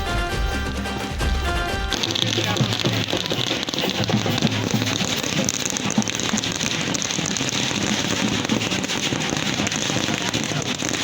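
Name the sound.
fireworks and firecrackers at Ravana Dahan, Dussehra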